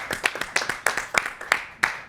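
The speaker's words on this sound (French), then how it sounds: "on peut vous applaudir" Brief applause from an audience at a comedy stage event, heard as a scattering of sharp, close hand claps in a loose, irregular rhythm with no speech over it.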